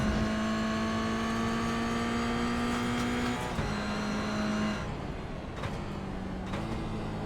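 Toyota GR86 race cars in a one-make cup race accelerating on track, loud sustained engine drone climbing in pitch, dropping briefly at a gear change, then a second car's engine droning on.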